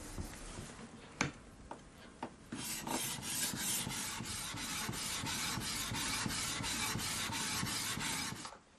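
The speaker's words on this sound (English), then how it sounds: "it's time for the final stage of the foundation polishing" A samurai sword blade is rubbed back and forth on a polishing stone at the final foundation stage, giving a steady rasping scrape in even strokes after a few isolated taps.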